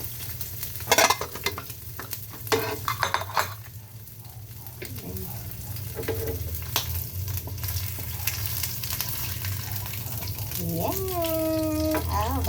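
Cooking oil in a pan sizzles and pops with sharp crackles, its steady frying hiss growing louder toward the end, with a voice speaking over it in places.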